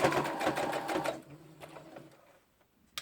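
Sewing machine tacking down fabric pieces for a snippet roll, a close rapid stitching burst for just over a second, then a few quieter, sparser stitches and a soft click.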